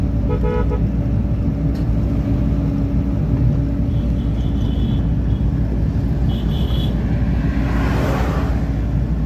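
A car on a highway during driving training gives a constant loud road and engine rumble from inside, with a few short horn toots early on and a passing whoosh near the end.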